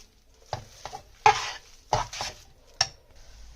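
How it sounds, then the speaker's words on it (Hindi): A spoon stirs a thick mixture of milk powder, dried coconut and milk for Sindhi coconut barfi, giving four or five distinct scraping, clinking strokes against the pan, close and fairly loud. "मिल्क पाउडर, कोकोनट और दूध अच्छे से मिक्स करना है आपको।"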